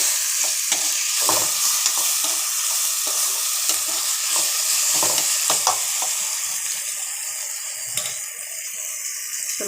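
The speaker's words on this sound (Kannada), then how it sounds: "ಸ್ವಲ್ಪ ಫ್ರೈ ಆಗಿ ಟೊಮೊಟೊ ಎಲ್ಲ ಬೇಯಬೇಕು" Tomatoes frying in a pan for avarekalu uppittu, a loud continuous sizzle with repeated clicks and scrapes from stirring, close by and without voices.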